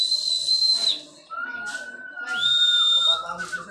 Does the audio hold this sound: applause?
no